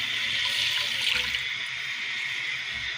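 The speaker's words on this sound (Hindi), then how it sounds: "उसमें हम डालेंगे दूध।" Milk poured into a cooking pan, a steady, even rush of liquid that runs unbroken for a few seconds with no voices.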